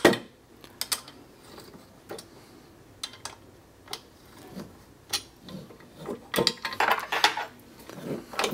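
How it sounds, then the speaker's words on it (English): An Allen wrench loosens Allen screws on a camera bracket, producing close, sharp metallic clicks and ticks at an irregular pace, with scraping and rubbing building toward the end and no talk. "If you loosen these 2 Allen screws on the bracket about 3 or 4 turns"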